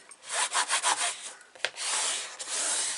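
Sandpaper rubbed by hand over paper on a vintage baby album, a run of close, rasping back-and-forth strokes in quick bursts, then a longer steady scrubbing stretch with a short pause, no talk.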